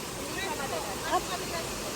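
Shower Falls waterfall, a steady broadband roar of falling water filling the scene, loud and continuous with little variation.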